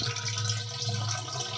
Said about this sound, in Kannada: ನೀರು ಹಿಡ್ಕೋಬೇಕು.